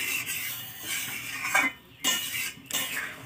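Fish curry being stirred in a pan, with metal spoon scrapes and clinks against the pan over a low sizzle, broken by brief pauses, close and moderately loud.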